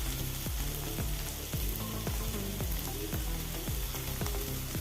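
Mustard seeds spluttering in hot oil, a dense run of rapid crackling pops over a continuous loud sizzle, steady and close throughout with no talking.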